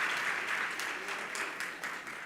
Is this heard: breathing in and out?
no